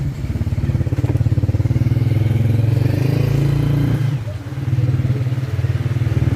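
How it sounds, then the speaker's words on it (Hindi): A motorbike carrying riders chugs through narrow city lanes in Gujrat with a loud, close, steady engine throb, easing off briefly before picking up again. "हमारी अपनी बाइक पे हम बैठे हुए हैं।"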